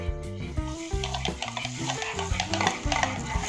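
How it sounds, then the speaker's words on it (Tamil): Whisk or spoon beating sugar into eggs for pancake batter in a bowl, a fast continuous scraping and stirring clatter, close and steady with no talk. "ஆட் பண்ணிட்டு மிக்ஸ் பண்ணுங்க."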